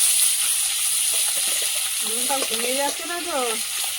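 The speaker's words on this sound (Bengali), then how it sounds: "এই মাছের তেল ছিটকে ছিটকে আছে" Fish frying in hot oil in a home kitchen, a continuous sizzle with spattering crackles, while a voice speaks over it in the second half.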